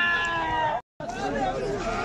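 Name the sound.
sheep bleating at a livestock market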